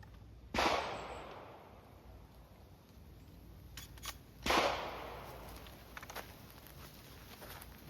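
Two loud, sharp blasts from a 20 gauge Mossberg Maverick shotgun firing buckshot outdoors, spaced about four seconds apart, each with a lingering decaying tail and faint handling clicks in between.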